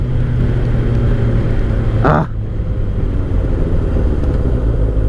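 A 2003 Kawasaki ZR7S motorcycle ridden at night, a steady loud engine drone with wind rush throughout, briefly broken by a short passing whoosh around the two-second mark.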